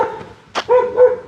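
A pet dog barks close and loud, a few short yips and woofs in quick succession.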